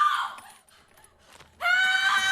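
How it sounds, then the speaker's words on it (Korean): A woman screams as a door in a building is opened, a loud sustained shrill cry bursting in suddenly after a quiet stretch of faint rustling. "그곳의 문을 열자 들리는 여자의 비명소리"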